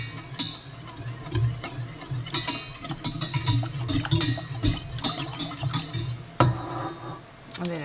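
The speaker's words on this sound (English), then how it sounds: "Give that a stir." A utensil stirs a mixture in a bowl, scraping and clinking against the sides in quick irregular strokes, close and fairly loud with no talking.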